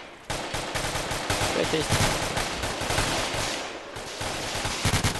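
Heavy gunfire in a co-op military shooter game, with dense rapid bursts and shots running nearly the whole time, loud and close, while voices call out over the shooting.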